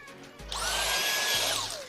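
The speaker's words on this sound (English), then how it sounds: "Quick vacuum while it's out." A vacuum cleaner works inside a Hyundai i30N with the seat removed, spinning up sharply, running loud and close for about a second, then winding down.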